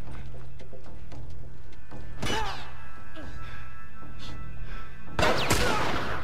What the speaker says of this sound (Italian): Ok, colpi del fucile.